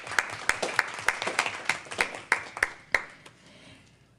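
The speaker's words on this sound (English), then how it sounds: "Let's give them a round of applause." Applause from a school board meeting audience: about a dozen sharp, evenly spaced claps ring out loudly, then fade into scattered softer clapping at the end.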